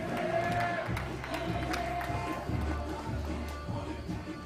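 Crowd noise at a bowling tournament, the USBC Masters, rises as scattered cheers and murmurs from spectators, a moderate, continuous wash of voices with a few brighter shouts, none of it sharply peaked.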